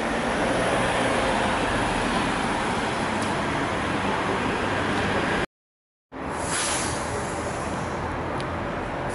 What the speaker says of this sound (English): here's the 76 trolley, which will take us there